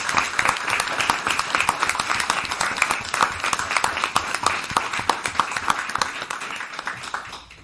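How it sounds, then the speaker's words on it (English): Audience members at a town council meeting clap for veterans who have stood up, a sustained, close, dense round of applause that thins out toward the end. "I just want to give a round of applause to those that serve their country"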